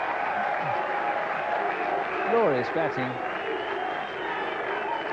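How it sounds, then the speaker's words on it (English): Cricket crowd at the 1990 England vs India first Test applauding Azharuddin's batting, a sustained wash of clapping and crowd noise under a commentator's voice speaking briefly in the middle. "The crowd love it."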